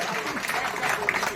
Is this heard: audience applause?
yes